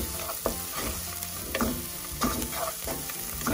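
Ginger-garlic paste and spices such as smoked paprika sizzle steadily in a pan for a lamb mince curry, with several scraping stirs breaking through the continuous close frying hiss.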